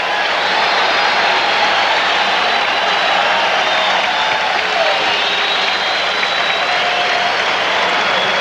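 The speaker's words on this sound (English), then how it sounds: "Fans applaud that play by Michael Jordan." Basketball arena fans at a 1988 Philadelphia 76ers versus Chicago Bulls game applaud, a broad, steady wash of clapping and crowd noise filling the whole space.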